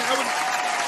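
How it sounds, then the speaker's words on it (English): Dense hand clapping from a group, a steady rattling wash of claps throughout at moderate loudness, with voices mixed in underneath. "I want a hand clap."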